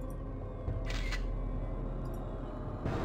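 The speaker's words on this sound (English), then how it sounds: "The shutter went off, and Class 6-2's photo was taken." A single camera shutter clicks sharply as a class photo is snapped in a quiet room, a brief mechanical snap near the start followed by a second faint click toward the end, with no voices.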